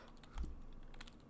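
Computer keyboard typing inside a video game, a short burst of close, crisp key clicks over a steady low hum, with no voices.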